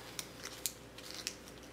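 Scissors snip a few times, faint and close, with crisp isolated cuts spaced unevenly over a quiet background and no speech.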